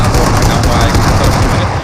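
Rapid bursts of PUBG Mobile gunfire crackle loudly and continuously, close and dense, with a low rumbling backdrop.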